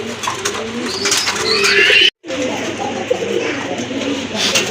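A pair of pigeons coo against a busy outdoor market background, with a brief dropout midway; the cooing is steady and close, with a faint murmur underneath.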